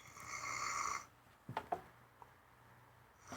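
A person snores during a podcast recording: one long, droning snore breath fills the first second, then quieter snorts and a few short sputtering breaths follow in a hushed room.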